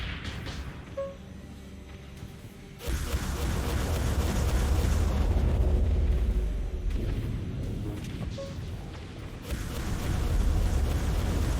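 A torpedo explosion in the space-combat game Dreadnought, a sudden heavy boom that swells into a long rumbling roar, with a second surge near the end, loud and without talk.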